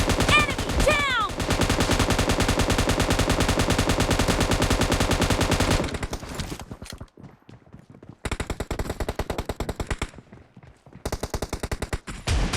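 Gunfire in a team deathmatch shooter game, a loud, rapid run of repeated shots that breaks off, then returns in further bursts with short pauses between them.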